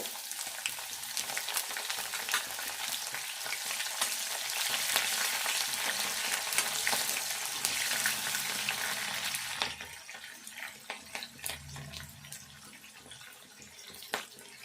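Spices sizzle and fry steadily in hot oil in a pan for tomato rasam, with stirring scrapes; the frying is loud for about ten seconds, then fades to a softer crackle.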